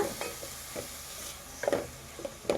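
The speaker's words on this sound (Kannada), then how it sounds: "ಇದು ಚೆನ್ನಾಗಿ ಬ್ರೌನ್ ಕಲರ್ ಆಗೋವರೆಗೂ ಫ್ರೈ ಮಾಡ್ಕೋಬೇಕು" Chopped ingredients for achari paneer masala frying in a pan, with scattered stirring scrapes and soft sizzling heard up close and alone, growing a little busier toward the end.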